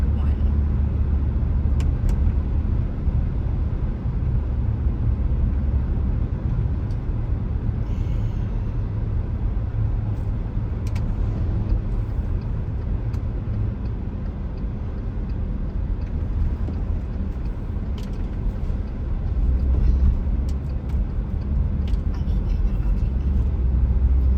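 A car on Highway 101 heading toward Villa Rica, Georgia, with a steady low engine and road roar from inside the cabin that holds constant throughout, plus a few faint clicks and occasional quiet talking.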